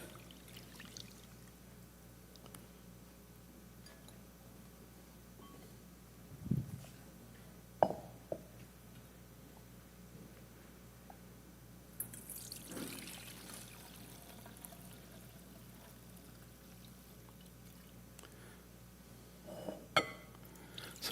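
Milky water left from washing rice poured off during a cooking demonstration, with soft intermittent trickles and a few louder splashes and clinks, quiet and close, with no talking.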